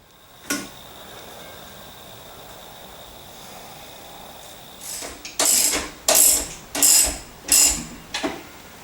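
Bolts are tightened while a Chamberlain B2401 garage door opener is installed, giving a single click near the start, then a cluster of loud, close ratcheting bursts in quick succession toward the end.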